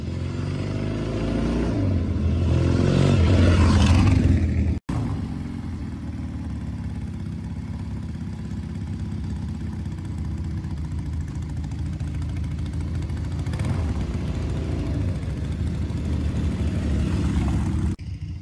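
A classic Laverda 750 air-cooled twin motorcycle engine runs nearby and loud. It revs up hard at first, cuts off sharply, then settles into a steady, throbbing idle with mechanical clatter.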